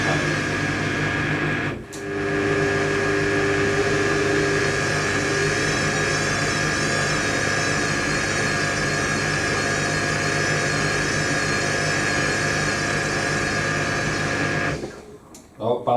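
Indesit IWC71452 washing machine running its balancing routine before the spin on a 90°C whites programme: a continuous motor hum with a wavering whine, briefly dipping near the start and winding down at the end.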